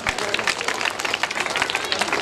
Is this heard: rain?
no